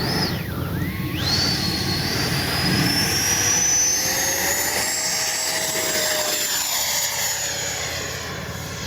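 A Freewing 90mm 6S Zeus RC jet takes off with a loud, steady electric ducted-fan whine that rises in pitch and holds for several seconds, close and unbroken.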